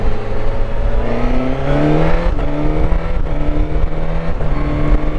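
A Suzuki GSX-S1000GT+ sport touring motorcycle engine revs hard while riding, rising through several gears with quick shifts between them, loud and close with wind noise.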